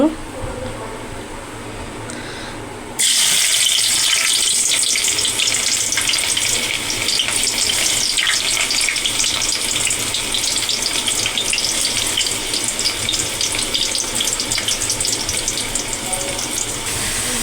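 Chopped onions hit hot oil in a wok. After a few seconds of quiet kitchen background, a sudden loud hiss bursts out and settles into a steady, bright sizzle that carries on to the end.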